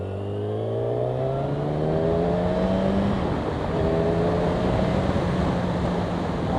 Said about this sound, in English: downshifting and engine braking are a lot smoother than I honestly expected out of this bike